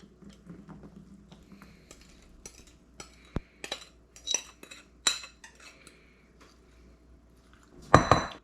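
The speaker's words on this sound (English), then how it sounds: "now dump in your blueberries" Blueberries are tipped from a bowl into a pie dish for a ginger blueberry pie, giving scattered close clinks and soft patters, with a louder clatter of the dish near the end.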